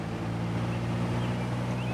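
A light aircraft's piston engine, run up to 2,000 RPM at the run-up area in Prepar3D v4 while showing spark plug fouling, drones in a steady low rumble throughout, close and continuous, with no one talking.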